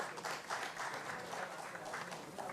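Audience applause at a national capital markets conference welcomes a speaker: a steady, fairly soft wash of many hands clapping throughout, with no distinct single claps standing out.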